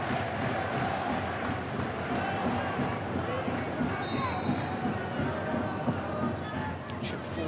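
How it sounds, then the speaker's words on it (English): Football stadium crowd at a Charlton Athletic versus Wolverhampton Wanderers match in 2007/08, roaring and chanting loudly just after a goal as a dense, sustained wall of voices, with a commentator talking over it. "Listen to the crowd now."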